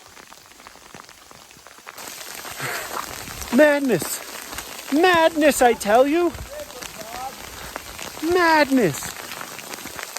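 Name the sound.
hail falling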